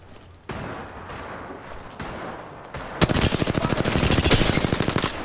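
Rapid automatic gunfire in a shooter game: scattered shots in the first half, then a dense, loud, continuous burst of fire for the last two seconds, with no voices.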